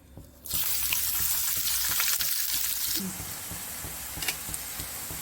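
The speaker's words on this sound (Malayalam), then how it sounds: "നമുക്ക് സവാള നന്നായിട്ടൊന്ന് ഫ്രൈ ചെയ്തെടുക്കാം" A sudden loud sizzle bursts in as onions hit hot oil, then continues as a steady crackling hiss, easing slightly partway through.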